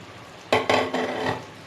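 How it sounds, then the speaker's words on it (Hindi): Cauliflower florets dropped into a pot of frying beef curry, a few sharp clattering hits followed by a burst of sizzling and stirring, close and loud. "अब मैं इसमें फूल गोभी ऐड कर रही हूँ"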